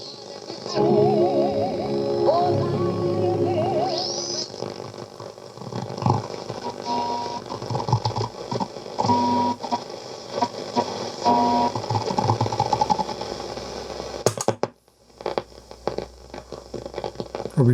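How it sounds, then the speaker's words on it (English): Continuous hissy shortwave radio static from a Philips Antoinette 22R receiver on a noisy evening band, with warbling tones and whistles drifting in and out, a brief dropout near the end, no voices. "It's really noisy on the band tonight."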